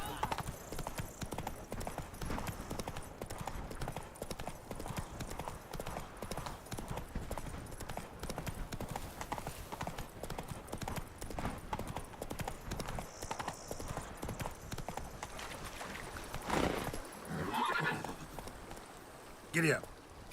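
A horse gallops continuously in a video game, rapid hoofbeats dense and steady over a long stretch, with faint neighing and a voice briefly calling out near the end.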